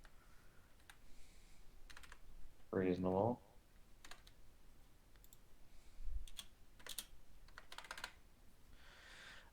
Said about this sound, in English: I'm typing this in, otherwise I'm gonna forget it later